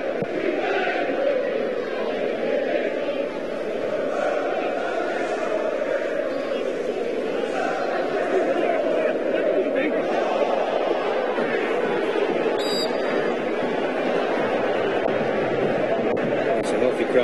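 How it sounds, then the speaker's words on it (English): Football crowd of about 24,500 at Hillsborough stadium: a steady, dense roar of murmuring and chanting voices that holds at an even level throughout, with a commentator talking over it. "It's a healthy crowd at Hillsborough."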